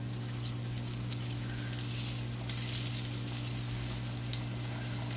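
Beer-battered catfish fries in a fryer with a steady, close hiss and crackle that swells briefly partway through, over a constant low hum and with no talking.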